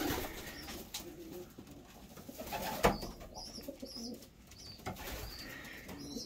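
Pigeons in a loft coo softly and repeatedly at close range, with a few brief wing flaps and shuffles scattered among the calls.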